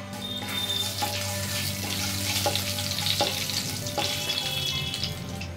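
Cumin and mustard seeds sizzling in 4–5 spoons of hot oil, a soft continuous frying hiss with a few faint ticks and crackles spread across, quiet and alone.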